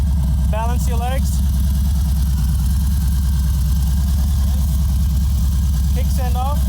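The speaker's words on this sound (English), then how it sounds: "So start the bike up." A Harley-Davidson motorcycle engine idles steadily and loudly nearby with a low, even throb, while a person talks over it briefly at the start and end.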